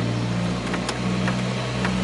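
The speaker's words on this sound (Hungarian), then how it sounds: "stabil alapjáratunk van, eszeveszetten veszi a fordulatot" A Peugeot 205 GTI's engine idles steadily with a low hum and faint periodic ticks, heard nearby and alone, without any clear revving.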